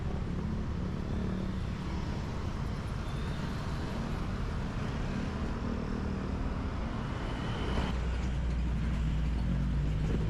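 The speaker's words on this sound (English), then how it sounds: "We're off, we've got my ride on my jeepney. We're heading up towards Temple of Leah." A jeepney rides uphill toward the Temple of Leah in Cebu, a constant loud engine rumble and road noise from inside the vehicle, with the drone swelling slightly near the end.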